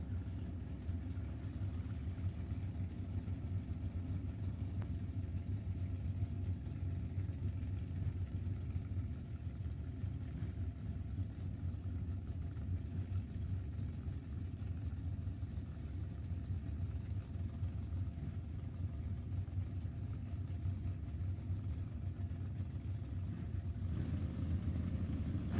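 A steady low engine rumble at a Sacramento Raceway bracket drag race, distant and unchanging, like cars idling or running far off, with no distinct launches standing out.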